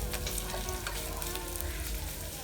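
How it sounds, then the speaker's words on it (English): Onion frying with salt in a pan for a Kerala coconut rice dish, a steady close sizzle with crackling that runs evenly throughout without any talk. "So until that we have to cook the onion."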